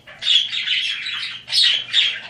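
Pet cockatiel squawking up close, a few loud harsh calls in quick succession with short gaps between them.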